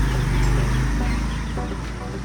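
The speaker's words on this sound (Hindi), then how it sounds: "और ये रही मुर्गियाँ इंतज़ार कर रही हैं कि इनका हैंडसम सा मुर्गा कब आएगा" Hens in a home bird gallery cluck softly, low and brief, beneath a loud, steady background rumble and hiss that fills the clip.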